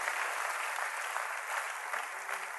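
A church congregation applauds at a service, giving a steady wash of clapping from many hands that holds evenly for the whole stretch, with no voices standing out.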